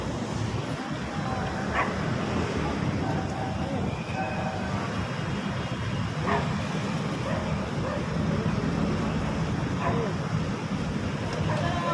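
Dog barking at a distance, with short yips breaking through a steady, loud outdoor rumble like a passing train, and voices talking over it.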